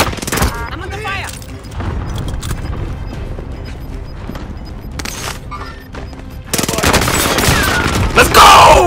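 Warzone gunfire on Rebirth Island: loud rattling bursts and scattered shots over ongoing game noise, with a voice talking, then an intense close volley near the end.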